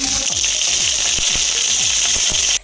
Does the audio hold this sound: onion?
yes